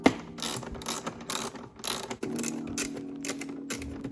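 A hand ratchet clicks in rapid repeated strokes while tightening bolts on a BMW B58 inline-six engine in an M240i during a spark plug change, loud and close with a short pause midway.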